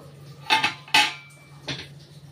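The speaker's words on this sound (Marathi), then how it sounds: "तर याच्यावरती ठेवायचं आणि वाफेवरती आणि झाकण ठेवून द्यायचं" Metal lid set down on a steaming pot of chicken momos, a few sharp clinks and clatters close by, then a lighter clank as it settles, with no talking.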